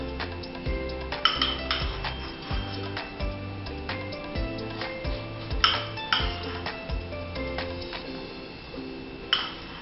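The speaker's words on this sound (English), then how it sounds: "I have a mortar and pestle, so I think I'm gonna break some of these lumps up" Mortar and pestle grinding lumps out of powder for a volcano project, a steady repetitive pattern of clinks and scraping knocks in a low rhythm, close and moderately loud, no talking.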